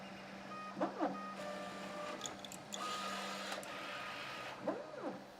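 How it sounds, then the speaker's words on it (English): A 3D printer with a dual extruder runs a print, its stepper motors whining in repeated rising and falling sweeps over a steady fan hum, close and moderately quiet. "run it on the printer."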